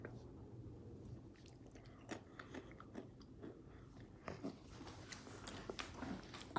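Crunchy Mexican snack bitten and chewed up close, faint irregular crunches and soft moist chewing sounds repeating in an uneven rhythm, quiet and without talk.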